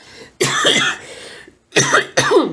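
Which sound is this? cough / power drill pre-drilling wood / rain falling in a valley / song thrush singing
cough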